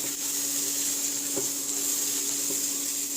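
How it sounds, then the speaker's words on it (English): Steady broadband sizzle of vegetables frying in hot oil, continuous and fairly close, with a faint hum beneath and a couple of soft knocks. "We're gonna fry them a little in order to extract the flavors"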